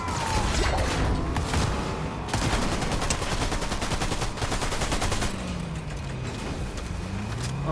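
Rapid automatic gunfire in Fortnite rattles out in dense, continuous bursts, loud and close, with short gaps between volleys and no talking over it.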